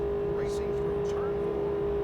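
Race cars in the NASCAR 2000 video game at the Texas track, a steady droning engine tone with a faint rising whine, continuous and fairly loud.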